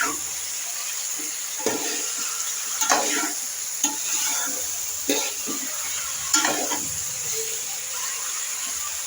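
Carrot and tomato fry in a pan with a soft continuous sizzle, broken by intermittent scraping and stirring strokes of a utensil at close range.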